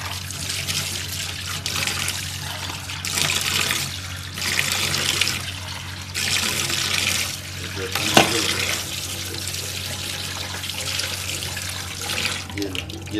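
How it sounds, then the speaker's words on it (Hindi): Drinking glasses being washed under a running kitchen tap with homemade liquid dish wash, water splashing and streaming in steady bursts with brief pauses between, close and moderately loud, no talking. "अब इसको हम धो के देखते हैं।"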